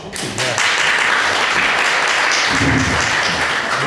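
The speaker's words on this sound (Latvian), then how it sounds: "tā kā varam sveikt viņu ar aplausiem" Loud, close applause for a round-number birthday during a conversation event, a brief opening voice giving way to sustained, even clapping from a gathered audience.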